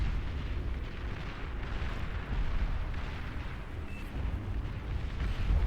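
Rumbling, crackling blast noise from the Beyond All Reason strategy game fills the whole stretch, a dense low roar with a slight swell near the two-second mark and no voices.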